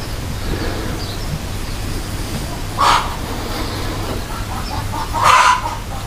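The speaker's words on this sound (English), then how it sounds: "there's me chooks" Backyard chickens cluck softly over a steady outdoor background, with two louder, sharper calls standing out a couple of seconds apart.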